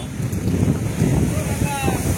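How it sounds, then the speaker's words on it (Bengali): Rough, surging sea waves at Digha beach on a rainy morning, a loud low rolling roar of surf buffeted by wind noise on the microphone, continuous throughout. "আজকে বৃষ্টি ভেজা সকালে দীঘায় প্রবল উত্তাল সমুদ্রে চলছে জলোচ্ছ্বাস।"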